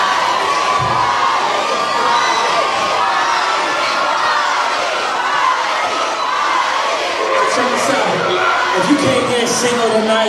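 Crowd at a live rap concert in Santa Cruz, California, cheering, whooping and shouting continuously at full volume, a dense roar of voices with the energy of an excited audience, heard close and steady.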